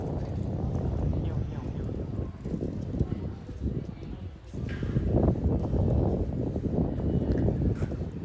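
Wind blowing outdoors on a calm morning, heard as a steady, loud buffeting rumble across the microphone that eases briefly midway and then swells again.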